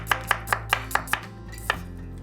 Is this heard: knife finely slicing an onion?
yes